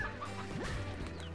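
Chickens clucking in the Slime Rancher video game, a brief cluster of clucks and squawks over a soft game music backdrop, moderately close and short.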